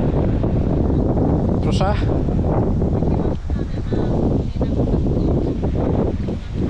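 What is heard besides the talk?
strong wind outdoors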